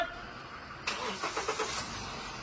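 Hyundai Accent engine cranking and catching after an ECU replacement, a sudden rise of starter whir followed by a few pulsing surges as the engine fires up and settles into a steady idle nearby.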